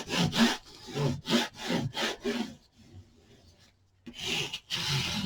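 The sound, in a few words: tool spreading glue on a paper mini album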